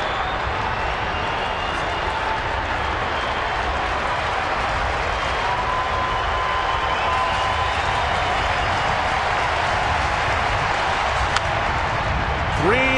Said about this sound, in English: the fans have been standing throughout this 9th inning. All they can do now is cheer louder.